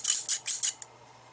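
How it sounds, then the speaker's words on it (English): Four quick scissor snips cutting through laminate, crisp and close, followed by a faint click and then quiet. "cut through with the scissors"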